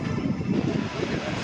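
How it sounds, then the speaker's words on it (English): A USAF C-17 Globemaster III military transport roars through a tactical takeoff at an airshow demo, its jet engines a steady broad rumble under a commentator's voice over the loudspeakers. "as we see this one take off, let's watch this, Danny"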